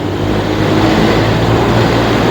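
A 2023 BMW R1250R with a 1250 cc boxer engine out on a ride, a loud continuous low engine rumble blended with strong wind buffeting at the microphone.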